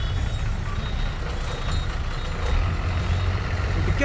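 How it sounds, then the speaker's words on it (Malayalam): A large bus pulls in at a roadside bus stop, a steady loud engine rumble with reversing-style beeps and a brief air-brake hiss, no talk over it. "ഈ ബസ് വരും നോക്ക്."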